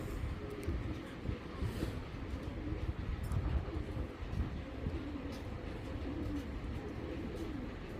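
Large pigeon cooing softly at close range in a loft, low rolling coos over a constant rumbling background, no speech.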